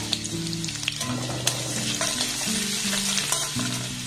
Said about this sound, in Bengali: তেলের মধ্যে দিয়ে দেবো গোটা জিরে সামান্য পরিমাণে, দিয়ে দেবো গ্রেট করে রাখা রসুন সামান্য পরিমাণে